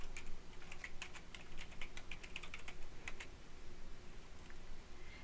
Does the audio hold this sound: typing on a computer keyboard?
yes